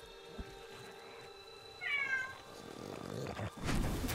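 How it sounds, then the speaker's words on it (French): A cat meows once in a short rising-falling call, mid-distance, over a steady low background hum with some faint rustling afterward. "Vous entendez peut-être aussi le chat miauler."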